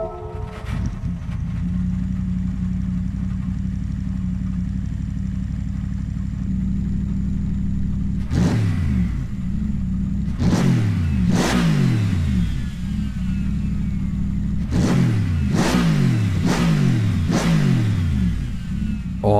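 A brand-new 2020 race car in Gran Turismo 7 idles with a deep, grumbly tone, then bursts into a series of sharp, loud revs, several rising and falling in quick succession.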